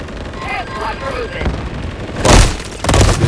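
Bursts of gunfire from the Call of Duty video game, with a loud crack around two seconds in and another burst after, over a busy mix of game sounds and faint voices.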